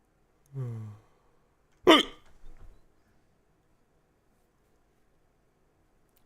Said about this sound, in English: That was still a hiccup.